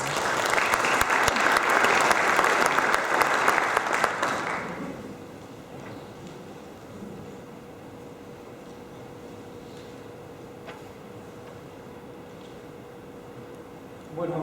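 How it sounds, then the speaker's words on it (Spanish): A seminar audience gives a new speaker a loud, dense round of applause for about four seconds before it cuts off into a quiet room hum. "Por favor, recibamos con un aplauso a Kim Belver"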